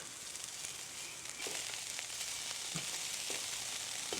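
Sausage patties fry in a pan with a soft, steady sizzle and a few faint crackles and pops scattered throughout, fairly quiet and with no voices.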